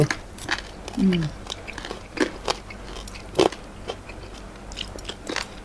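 A crunchy shiitake mushroom chewed close to the microphone, with irregular sharp crunches and bites over about six seconds and faint murmuring in the background.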